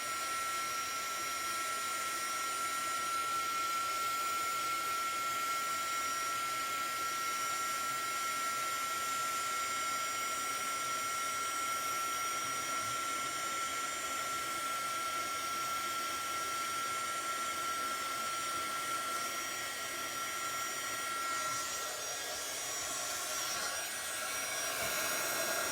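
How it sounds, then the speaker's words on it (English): A heat gun blowing for heat embossing gives a steady, even whir with a high whine that runs unbroken for the whole stretch. "we're just gonna go ahead and heat emboss this"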